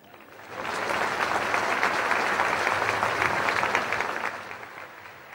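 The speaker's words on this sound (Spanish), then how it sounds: "Aplausos." Live comedy show audience bursting into applause that swells quickly, holds as a dense wash of clapping for several seconds, then fades out.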